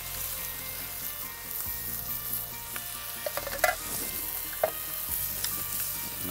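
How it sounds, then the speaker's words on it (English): Sun-dried tomatoes stirred in a hot pan during a barbecue cook: steady sizzling frying with a low background hum, broken by a few light scrapes and clinks of the stirring utensil, no talk. "I'm going to stir this all together now."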